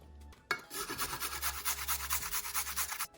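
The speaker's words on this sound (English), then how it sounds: "I have got 2 garlic cloves, quite nice fat ones, and a big piece of ginger, and I'm going to just grate these for the marinade." Two fat garlic cloves and a big piece of ginger grated for a marinade, a rhythmic rasping scrape of quick even strokes, close and alone for about two and a half seconds.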